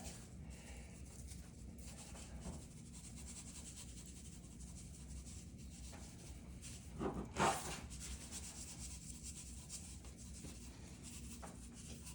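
Pepper is rubbed thickly onto a prime rib by hand, a faint soft scraping and rubbing that continues quietly, with a brief louder rustle near the end.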